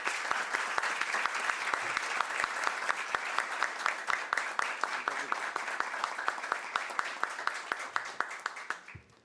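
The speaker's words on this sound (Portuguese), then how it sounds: "em favor de quem eu peço uma salva de palmas" Lecture hall audience at a talk on citizenship and democracy breaks into sustained applause, many hands clapping close and steadily for about nine seconds, with one sharp, prominent clapper keeping a near-regular beat before it dies away.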